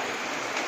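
Steady rain falls in a continuous, even hiss, close and moderately loud, with no voices or other sounds breaking through the brief stretch.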